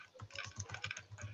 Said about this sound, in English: My typing's bad.